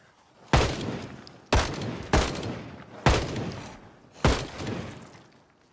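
M14 rifle fire in a video game: five single loud, sharp shots at irregular intervals of about a second, each with a short decaying echo.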